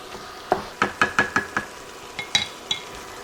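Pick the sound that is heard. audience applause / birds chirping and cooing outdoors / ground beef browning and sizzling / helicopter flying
ground beef browning and sizzling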